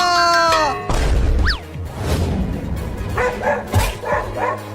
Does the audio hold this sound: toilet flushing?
no